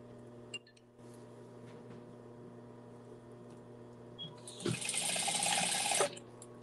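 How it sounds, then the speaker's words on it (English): A sewing machine stitches a dart on a fabric memory bear, running in one short, loud burst of about a second and a half near the end, after a quiet stretch with a low steady hum and a faint click. "I'm going to sew up another little dart here"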